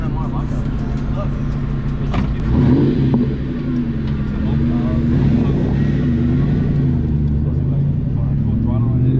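A car engine revs hard at full throttle, a loud, sustained drone that climbs and holds, heard close with voices talking over it.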